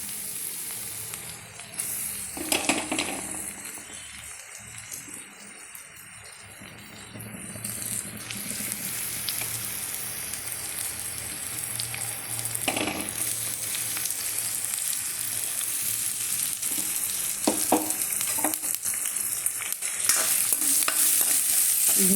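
Onion and ginger frying in a pan for coconut chutney powder, a continuous sizzle that grows louder over time, punctuated by occasional scraping strokes of a stirring spoon, close up and without talking.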